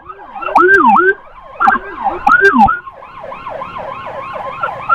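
An ambulance siren during a road escort of two ambulances on a one-way street: loud, close wailing sweeps that shift into a faster rapid warble, with faint traffic underneath.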